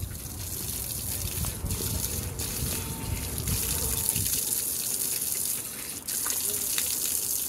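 Water gushes steadily from a spout at the entrance of a hidden hilltop Devi temple on Chaurai Dongar, a loud, continuous rushing flow close by with no voices.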